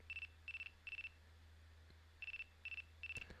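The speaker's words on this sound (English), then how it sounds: "phone in hand as it continues to ring" A mobile phone rings in a visual novel video game, sounding as short bursts of electronic chirps in repeated groups of three, fairly quiet over a low steady hum, with a brief click near the end.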